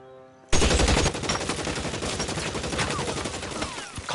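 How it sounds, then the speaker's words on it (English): Rapid automatic gunfire in LA Noire Remastered erupts loudly after a brief quiet musical opening, then continues as a dense, sustained burst of shots to the end. "the other one freaking pops up and starts shooting"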